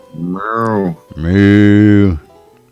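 Two long, deep moos from a cow sound close and loud: a shorter call, then a longer, fuller one, with a brief gap between them.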